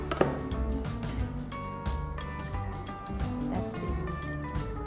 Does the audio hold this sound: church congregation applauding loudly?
no